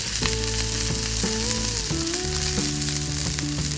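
Sausages fry in a pan alongside rapini, giving a dense, constant loud sizzle for the whole moment, with sustained musical tones gliding over the crackle and no one talking.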